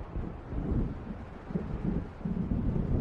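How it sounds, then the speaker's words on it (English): Low, rolling thunder of an approaching storm in the Alan Wake video game, a steady rumble with swelling low surges mixed with wind and wave noise, moderately loud and continuous with no voices. "It seems there's a storm coming."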